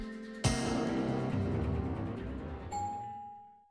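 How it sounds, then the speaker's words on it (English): An elevator chime from the visual novel Tsukihime: A Piece of Blue Glass Moon, a clear two-tone ding-dong that rings out loud and lingers in a long fading tail against a quiet background. "The gentle chime of the elevator shatters the silence"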